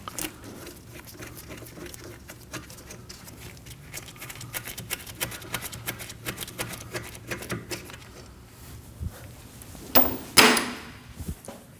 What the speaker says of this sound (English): 14mm socket, we're gonna remove these two bolts that hold the caliper in place